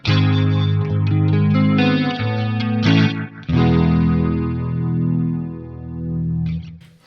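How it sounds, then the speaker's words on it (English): Electric guitar with light overdrive runs through an EHX Stereo Electric Mistress chorus with the rate at 12 o'clock, strummed chords shimmering with steady moderate modulation, loud and close, alone. "with the rate at 12 o'clock, once more the chorus"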